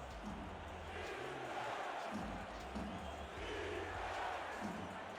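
A large video game stadium crowd at a Florida home football game roars continuously, a dense wash of cheering and shouting that swells slightly, with no clear individual voices.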